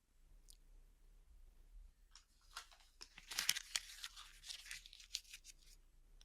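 Paper is crumpled by hand close up in a quiet room: after a near-silent start, a run of crisp crackles and crinkling bursts builds, then tapers off.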